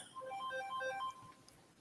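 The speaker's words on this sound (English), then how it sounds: "No, that's my alarm for me to take my medicine." A phone alarm set as a medicine reminder rings indoors in a repeating electronic melody of short bright tones, fairly faint, sounding alone for over a second before cutting off.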